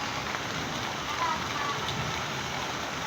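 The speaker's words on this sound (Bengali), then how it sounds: "হালকা পাতলা বৃষ্টি পড়তেছে" Light rain falls steadily beside a balcony in Bhaluka, an even, soft hiss of drops on surfaces with occasional closer taps, continuous and unaccompanied by speech.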